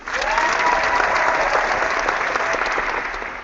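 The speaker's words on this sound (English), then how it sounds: "if we could just give her a round of applause for joining us" A crowd at a women's leadership event applauds a guest in a loud, dense burst of clapping that holds steady and then begins to taper off.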